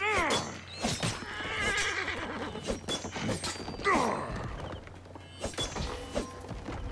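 Horse neighing and whinnying in Assassin's Creed Origins, a loud drawn-out call with clattering hoof and gear sounds, a second whinny near the four-second mark, over steady game ambience.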